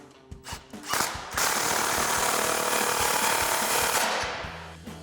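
A 15mm socket ratchet tightening the exhaust clamps on a RAM 1500 with a stainless steel muffler delete. Close, loud mechanical rattling and grinding builds after a few clicks and holds steadily for about three seconds before easing off.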